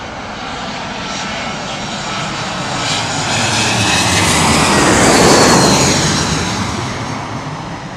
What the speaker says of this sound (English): See the landing lights on the Dreamliner.